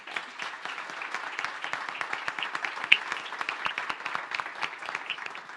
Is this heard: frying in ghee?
no